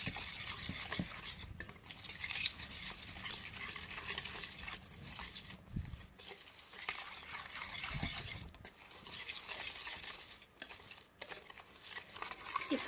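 Chicken being mixed with spices in a bowl or pan, soft wet squelching stir strokes with light clinks of a spoon against the vessel, close but quiet, with no talking.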